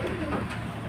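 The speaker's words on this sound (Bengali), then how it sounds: "খুব ভালো কোয়ালিটির পায়রা" A pigeon coos close by in a loft kept for high-quality breeding birds, a short, low, throaty rolling call that stands out clearly.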